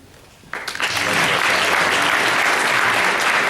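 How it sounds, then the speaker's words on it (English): Audience applause at a county executive candidates' debate starts abruptly after a quiet moment and swells into sustained, dense clapping from a sizeable crowd in a hall. "Why don't we hold off on the applause?"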